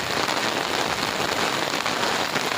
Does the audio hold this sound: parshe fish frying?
no